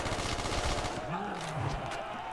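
Rapid gunfire from a high-ammo weapon in World at War Zombies, a dense, continuous rattle of shots with a voice talking over part of it.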